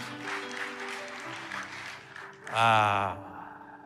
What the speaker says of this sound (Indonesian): Berikan tepuk tangan buat Tuhan Yesus ya.